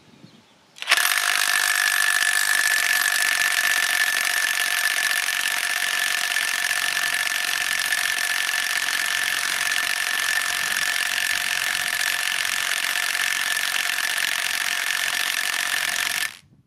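A Parkside 20-Li cordless impact wrench tightening at its 400 Nm setting gives one loud, unbroken buzzing whir. It starts abruptly, holds steady for about fifteen seconds and cuts off sharply.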